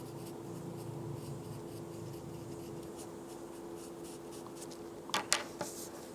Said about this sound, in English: Now we're going to draw it, draw the petal.